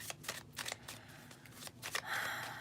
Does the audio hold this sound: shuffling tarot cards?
yes